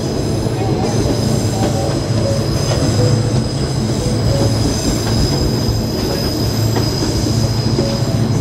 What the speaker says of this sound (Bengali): ওই যে দূরে আরেকটা ট্রেন আসছে,